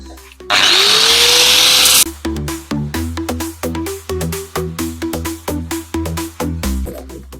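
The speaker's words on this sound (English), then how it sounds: "I'll just grind it a bit more." A power tool grinds the edge of a wooden sword, opening with a loud sustained whine of about a second and a half, then a fast run of rhythmic rasping bursts as the blade is worked, close and loud.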